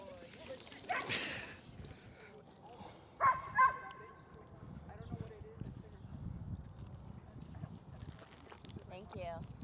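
Dogs in a group obedience training class, with a couple of sharp barks standing out near the middle amid background voices and general room noise.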